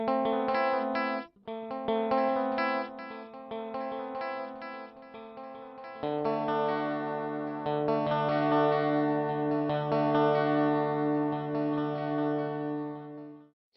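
An electric guitar runs through a Hotone Binary Eko delay pedal on preset A5, playing chords and notes with echoing repeats and a shimmering modulated tail, steady and moderately loud with one brief gap and no talking.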